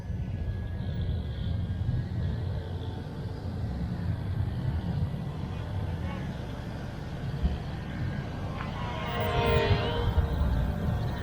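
An XK X450 VTOL drone flies in airplane mode outdoors in calm conditions, a steady faint motor whine over a wash of low background noise that swells slightly near the end, with occasional speech.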